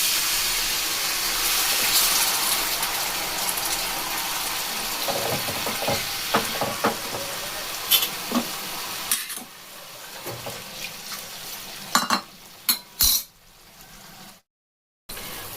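A paste of coriander leaves, garlic and chilli hits hot oil in a frying pan for a fish curry, giving a steady close sizzle broken by stirring scrapes and a few sharp utensil knocks.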